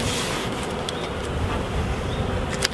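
Dense, steady hum of many honeybees crowding the edge of a hive frame during a spring hive inspection, a close continuous buzz with a few brief sharper flicks.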